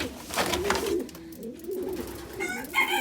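Racing pigeons coo in a breeding loft, low soft cooing phrases repeating steadily through the clip at close range, with a few brighter bird sounds near the end.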